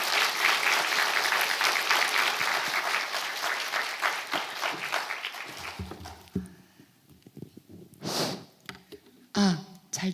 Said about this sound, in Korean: 강사님 나오실 때 큰 박수로 환영해 주시기 바랍니다.